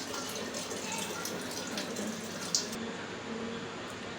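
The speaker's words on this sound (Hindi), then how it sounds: "अभी मैंने आटा गूँधने के लिए ये वाला पानी यूज़ करना है फिल्टर का" Filtered water pours steadily for kneading dough, a continuous broad rush in a home kitchen, fairly quiet with a brief clink partway through and no talk.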